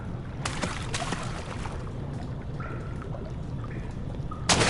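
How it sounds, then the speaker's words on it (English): Splashing and sloshing water as a character falls in during Amnesia: The Dark Descent, a continuous wet churn lasting several seconds and ending in a louder splash burst. "I didn't need to fall in the water."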